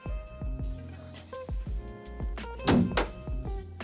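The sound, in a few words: Land Rover door closing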